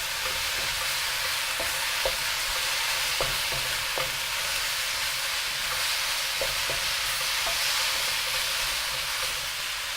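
Vegetables sizzle steadily in a hot pan during a stir-fry with a constant hiss, broken by light clicks of a utensil stirring.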